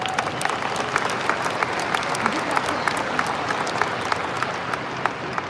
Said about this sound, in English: So please, give yourself a round of applause for your effort.